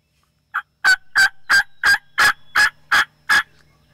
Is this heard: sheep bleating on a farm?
no